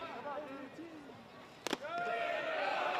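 A baseball pitch striking a batter's leg during a college baseball game between Maryland and UCLA, a sharp double smack that stands out briefly amid the steady crowd noise and ongoing commentary.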